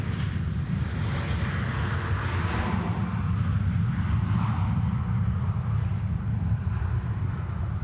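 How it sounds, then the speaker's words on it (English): A Jetstar Airbus A320 takes off from runway 16 left at Sydney Airport, a steady, loud broadband engine roar that swells slightly and holds without voices. "Jetstar A320 now getting away at 16 left."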